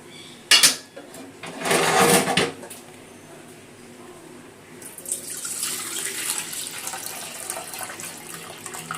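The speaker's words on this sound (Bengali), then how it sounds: "দিয়ে এই জলটা ডালটা ভালো করে ধুয়ে নেব, 4-5 বার ভালো করে ডালটা ধুয়ে নেব।" Lentils (dal) being rinsed in a bowl with tap water several times: two short splashy bursts up front, then a steady, close stream of running and sloshing water that continues to the end.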